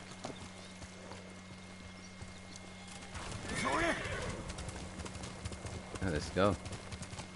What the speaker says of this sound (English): Alright, let's call our horse again.